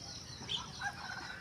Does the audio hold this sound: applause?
no